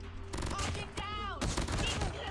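Rapid hip-fire gunshots from a Cordite gun in COD Mobile crackle in quick bursts, loud and close, layered with game effects and clatter.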